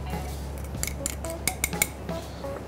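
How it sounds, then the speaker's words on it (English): A knife taps sharply on a cutting board while chopping fresh oysters, a handful of distinct, fairly close clicks in an uneven rhythm over a low background hum. "Chop the oyster."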